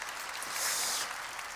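A church congregation clapping during a sermon, a brief steady patter of many hands at moderate level, with no voices over it.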